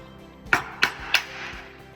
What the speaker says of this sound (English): You're gonna take a flathead and a hammer.